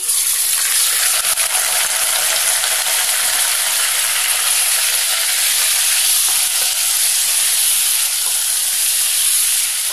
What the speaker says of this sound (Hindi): ऑयल हमारा गर्म हो चुका है और इसमें हम मटन छोड़ देंगे